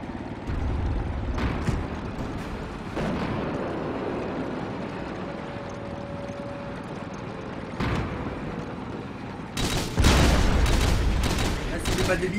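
Gunshots in a video game ring out in scattered bursts over a noisy mix, with a dense cluster of loud shots near the end and voices talking over parts of it.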